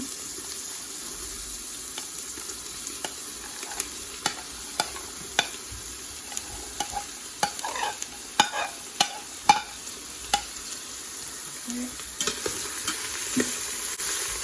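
Chopped vegetables sautéing in a pan for a vegetable soup, a constant low sizzle broken by repeated sharp spoon scrapes and taps as they are stirred, close and without talk.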